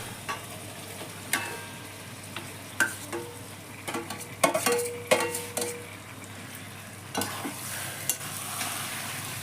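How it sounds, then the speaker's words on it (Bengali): Marinated mutton added to a pan of sizzling cooked-down spice paste for a red mutton curry, a low hiss with irregular clatters and stirring knocks, moderately close, no talking. "এবার আমি ম্যারিনেট করা মাটনটা দিয়ে দিচ্ছি।"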